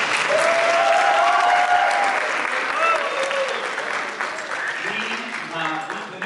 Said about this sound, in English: Give them a round of applause when they're finished.